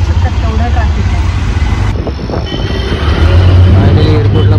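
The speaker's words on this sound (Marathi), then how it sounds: "ट्रॅफिक तुम्ही बघू शकता, तेवढा ट्रॅफिक आहे." Heavy road traffic in Mumbai on the way to the international airport makes a loud, continuous rumble of engines and road noise close by.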